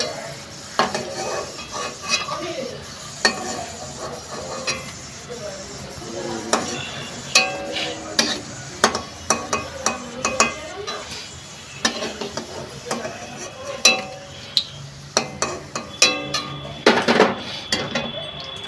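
Fried pumpkin koftas are lifted one at a time from hot oil and drained, with a gentle sizzle under repeated clinks and scrapes of a metal spoon against the pan; there is no talk.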